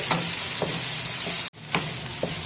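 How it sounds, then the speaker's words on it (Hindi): Ginger garlic paste frying in a hot pan, a steady loud sizzle with a few soft stirring scrapes, heard alone without talk. "इसके साथ मैंने डाल देना है ये अदरक लहसुन पेस्ट। देखें ये भून रहा है काफी अच्छे से।"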